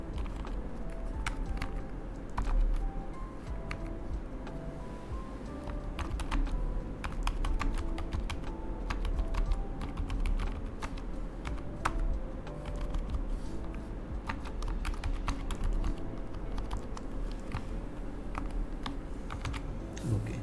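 Steady clicking of computer keyboard keys as PHP code is typed, quick irregular bursts of keystrokes continuing throughout over a low background hum.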